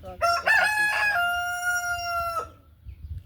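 A rooster crows once, close and loud, the long harmonic call holding steady before it breaks off, then quiet background.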